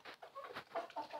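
Black and yellow Brahma cross hens cluck in short, quiet bursts close by, a few choppy calls over about a second.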